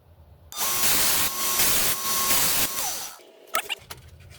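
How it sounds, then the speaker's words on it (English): A knife edge ground on a 120 grit ceramic belt grinder: a loud, close, rough grinding hiss with a steady motor whine, running for a few seconds in pulsing passes before winding down, then a few handling clatters. "We're going to start with a 120 ceramic belt in order to establish the apex first."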